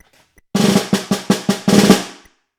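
A snare drum plays a short, loud burst of strokes and rolls at tempo 160, building to a strong final accent that rings briefly before silence.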